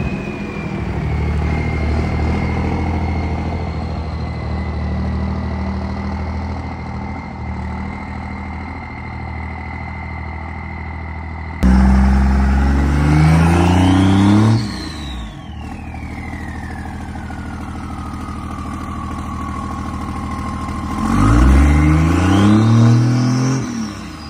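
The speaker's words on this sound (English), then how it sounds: "random videos of where you can hear the turbo pretty well" Second-generation Cummins 5.9 diesel truck fitted with a Fleece Cheetah turbo, first a steady diesel drone with a high turbo whine, then two loud revving passes where the turbo spools up and falls away, with no talk.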